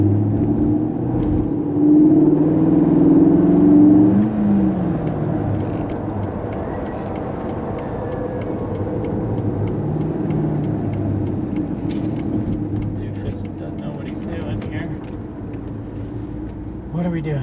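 A 2002 Corvette C5 Z06 in Quicksilver Metallic cruising on a test drive, its engine rumbling steadily from inside the cabin, with a brief rise in revs early on and someone talking over the drone.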